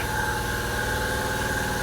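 A car engine idles after a manual throttle relearn reset for a throttle stuck open: a steady, even mid-pitched hum with constant vibration, close and unbroken for the short stretch.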